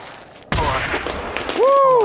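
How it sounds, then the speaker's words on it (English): Fireworks burst in the air in the video game Generation Zero, arriving as a sudden loud blast followed by crackling pops and a rising whistling tone, with a distant rumble underneath. "Guys, fireworks guys. In the air."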